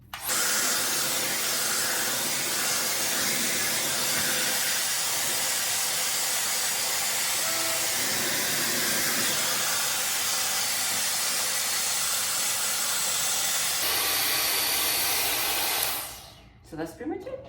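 A Bondiboost Everlasting air styler blows air while curling hair, a loud continuous breathy roar that shifts pitch partway through, then cuts off with brief handling rustles at the end.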